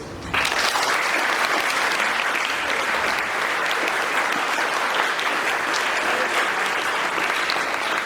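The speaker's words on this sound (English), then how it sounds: "give yourselves a round of applause" Graduating high school matric students in a school hall break into a full round of applause, a loud, dense wash of many hands clapping that starts abruptly and holds steady, with no talking over it.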